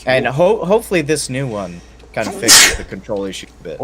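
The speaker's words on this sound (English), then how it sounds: "That sneeze caused you some damage." A single abrupt sneeze bursts out mid-conversation, sharp and loud, with people talking on either side of it.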